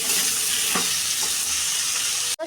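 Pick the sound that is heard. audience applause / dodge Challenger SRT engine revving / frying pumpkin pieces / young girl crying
frying pumpkin pieces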